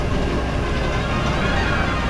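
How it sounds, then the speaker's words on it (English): Train carts roll steadily in Star Wars: Shadows of the Empire, a continuous dense rumble with a faint clatter, loud and unbroken throughout with no talking. "Jumping into more train carts, and now we're going inside for a tunnel."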